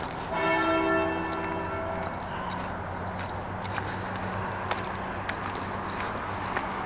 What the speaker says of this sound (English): That's what I like about church bells. I like the different sound of each one.